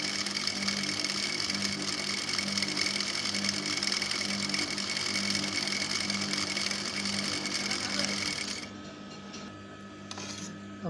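A sewing machine stitches a skirt palazzo with a steady, continuous mechanical whir that runs for most of the stretch, then stops abruptly, leaving quiet room tone.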